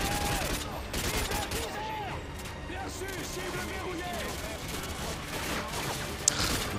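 Rapid gunfire in a Modern Warfare 2 campaign battle. Dense bursts of automatic shots crackle continuously and sound close and loud, with faint voices underneath.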